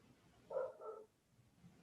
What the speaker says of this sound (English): there's a dog now,